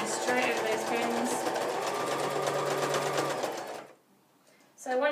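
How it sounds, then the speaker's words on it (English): A domestic sewing machine stitches teddy bear fabric straight over pins, a fast steady mechanical whir with rapid needle clatter that runs for several seconds, then stops abruptly into near silence before a brief restart. "the sewing machine is going straight over those pins."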